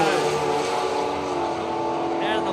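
Turbocharged Datsun Bluebird launching at a drag race at Willowbank Raceway, a loud sustained engine roar with crowd and commentary noise mixed in.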